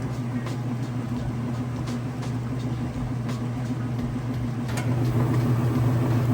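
A washing machine drum spins fast in a continuous, even low hum with a steady tonal whine and faint soft knocks, moderately quiet and unchanging throughout.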